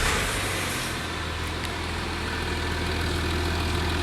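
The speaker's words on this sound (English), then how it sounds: "I want you guys to hear how good this engine is" A Jaguar 2.7 engine swapped into a Range Rover Sport idles steadily, a smooth low rumble with an even hum and no misses or knocks, close by and alone for several seconds.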